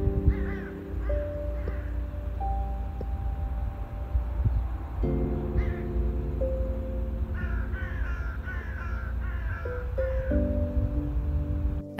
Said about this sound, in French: Une pie avec une noix dans le bec, poursuivie par un milan, lui-même poursuivi par 2 corneilles.